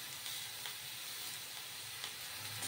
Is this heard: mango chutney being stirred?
yes